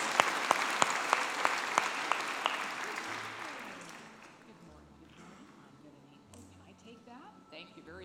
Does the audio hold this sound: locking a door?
no